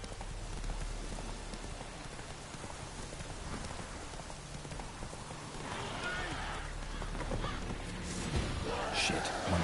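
Roach, a horse in The Witcher 3, gallops with steady clip-clop hoofbeats under constant game ambience and music, the beat growing louder and busier toward the end.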